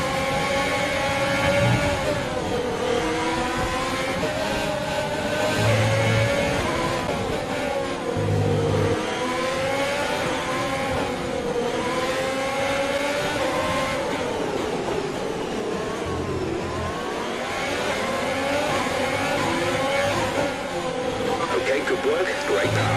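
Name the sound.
F1 2020 video game race car audio through an S section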